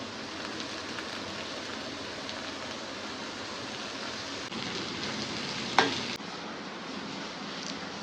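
Soaked chana dal fries in hot oil, hissing in a steady close sizzle with one brief clatter of stirring.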